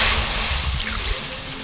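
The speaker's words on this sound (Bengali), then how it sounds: "দুধ দিয়ে দেবো" Milk poured into a hot pan of fried sweet potato, a loud, close rushing hiss and slosh that starts strong and gradually eases off over under two seconds.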